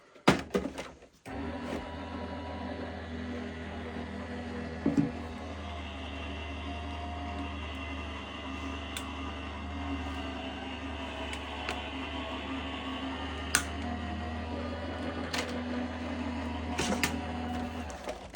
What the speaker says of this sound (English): I'm going to send those through the machine.